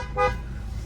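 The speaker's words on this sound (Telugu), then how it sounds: "హారన్ ఇది" A car horn gives one short, sharp toot from inside the cabin of a used car. The brief beep rises over a low idling rumble and then fades.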